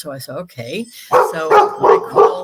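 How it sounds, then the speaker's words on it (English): A dog barks in several loud, close bursts after someone speaks briefly at the start, the barks following in an irregular run. "sorry about the dog."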